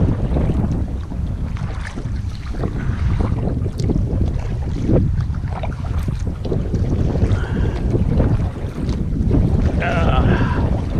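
Wind gusts roar across the open water of Summersville Lake in West Virginia around a kayak, a loud constant buffeting on the microphone with faint water sounds beneath.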